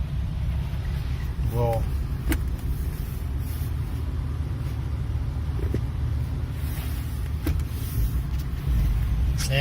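A 1991 Toyota FJ80 driving in high range after a transfer case shifter modification, with a steady low engine and road rumble throughout and a voice speaking over it.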